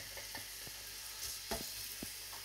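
Chopped garlic frying gently in oil over a low flame for chicken dum biryani gives faint, sparse crackles and pops over a soft steady hiss, with no talking.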